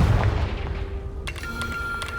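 A Confringo explosive spell blast in Hogwarts Legacy, a deep booming impact followed by crackling magical debris and a ringing tone, loud and close.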